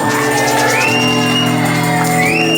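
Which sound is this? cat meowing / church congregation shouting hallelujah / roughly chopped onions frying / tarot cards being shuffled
church congregation shouting hallelujah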